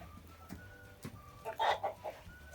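A hen clucks in a flock of Bielefelder, Barbezieux and White Leghorn chickens, a few soft scattered clucks followed by a louder cluster of clucking calls, with faint farmyard background.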